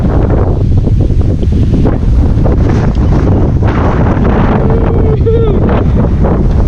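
Strong wind at a Pacific-facing beach resort view deck buffets the microphone in a loud, continuous roar, with a brief whistle-like tone partway through.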